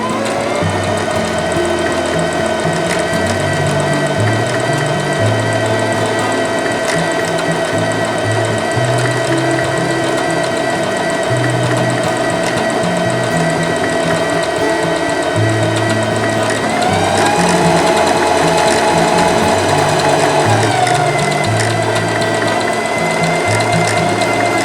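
A Singer Heavy Duty 5554 sewing machine runs an overcast stitch through fabric, a steady, loud mechanical whir and rapid needle chatter that continues without pause for the whole stretch, close up and with no voices.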